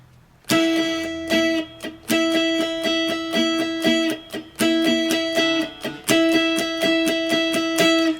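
Electric guitar chords strummed gently with a pick in a steady down-up pattern, bright and ringing, with repeated bursts over about eight seconds and short gaps between phrases, no voice.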